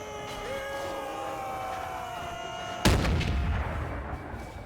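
A cannon fires in the Empires of Europe video game during a siege, a single loud boom with a decaying rumble that breaks through a steady background drone.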